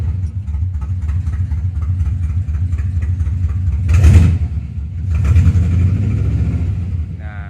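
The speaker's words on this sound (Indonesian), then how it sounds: "Nah kita cobain hidupin apakah RPM nya berjalan begitu Proy." A motorcycle engine fitted with a custom speedometer runs at a steady idle, then gets two short revs about a second apart, settling back into a close, even rumble.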